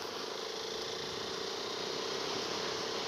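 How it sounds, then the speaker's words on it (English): A KTM Duke 390 single-cylinder motorcycle engine drones steadily while riding around Woodlands, Singapore, a continuous close hum laced with broadband wind rush and no break for the full length. "Right now I'm just riding around Woodlands, you know, just testing the bike."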